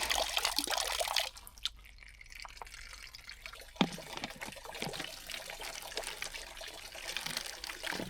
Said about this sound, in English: Thank God there's this little trickle here